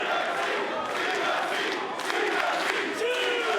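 Crowd at a WWE Cruiserweight Classic wrestling event chanting in unison, a loud rhythmic mass of voices with repeating surges filling the arena throughout.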